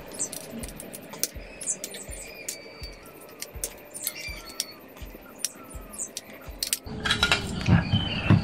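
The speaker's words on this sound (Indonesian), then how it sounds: "Jadi ini saya bongkar terlebih dahulu saja untuk mesinnya" A Vivo V20 SE smartphone with a dead, EDL-only fault being opened up on a repair bench: rapid small clicks, taps and metallic clinks from tools and the phone's parts, close and fairly quiet, with a louder burst of handling near the end.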